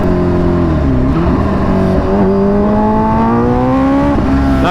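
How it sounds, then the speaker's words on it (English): A Kawasaki Ninja H2R motorcycle downshifting from second to first at high speed, a loud, close engine whine dropping and then climbing in pitch with abrupt shift breaks. "That downshift from second to first is violent."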